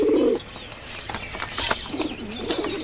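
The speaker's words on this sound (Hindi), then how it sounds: "ये कबूतर मेरे हैं।" Domestic pigeons being raised by a woman coo in low, rolling calls, one burst at the start and another trailing off near the end, with soft chirps and background movement in between.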